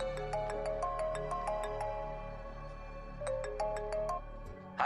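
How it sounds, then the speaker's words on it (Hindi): A melodic phone ringtone plays for an incoming call, bright repeating note patterns in two phrases over a steady low hum, loud and alone, cut off abruptly at the end. "भैया, आपको किसी का फोन आ रहा है।"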